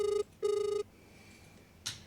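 A phone call rings out over speakerphone in an office, two clear electronic ring bursts separated by a short gap, followed by a faint brief tone near the end.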